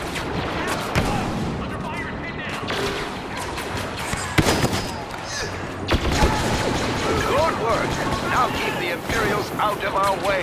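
Battle gunfire from the Star Wars Battlefront video game: dense, continuous volleys of shots and blasts with sharp louder bursts, mixed with game voices and effects throughout.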